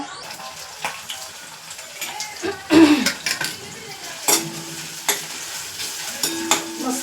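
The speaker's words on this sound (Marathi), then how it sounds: "याला मस्त आपण फ्राय करू आता" Cornflour-coated potato pieces for chilli potato sizzling in hot oil, with a spatula tapping and scraping the pan in irregular bursts over a continuous fry hiss, close and fairly loud, no talk.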